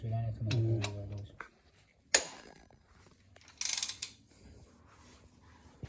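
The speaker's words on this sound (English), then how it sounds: "always use a torque wrench to untorque your bolts" A torque wrench loosening bolts on a BMW 125i, with a few metallic ratcheting clicks and clanks close by, mixed with a steady hum and people talking nearby.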